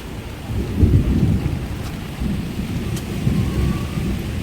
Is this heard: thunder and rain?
yes